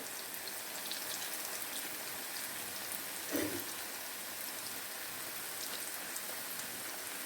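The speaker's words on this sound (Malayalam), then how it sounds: "ഒന്ന് ഫ്രൈ ആയി വരട്ടെ." A traditional Kerala sweet frying in hot oil over low heat, giving a steady, fine, rain-like crackle that holds evenly throughout, with one brief louder burst partway through and no voices.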